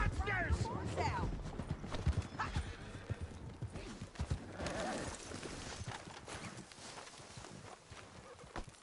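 Horse hooves clattering in a Red Dead Redemption 2 game scene, uneven clip-clop bursts mixed with whinnies, scuffles and brief shouting voices over a busy, faint background.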